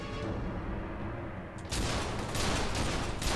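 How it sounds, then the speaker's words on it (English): Heavy gunfire from the first-person shooter F.E.A.R. 2 forms a dense, continuous barrage of shots that grows louder partway through, with no voices over it. "It's just a lot of shooting."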